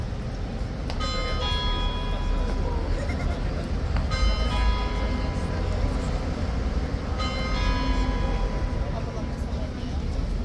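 A bell rings in three separate bursts at Horse Guards in London during a crowded tourist scene, its bright repeated strokes cutting over a loud, constant crowd murmur.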